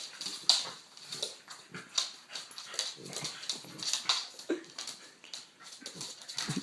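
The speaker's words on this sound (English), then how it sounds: "you're getting beat up by a little dog" Two dogs, one of them small, scuffle close by with rapid snarls, growls and yelping whimpers in busy irregular bursts.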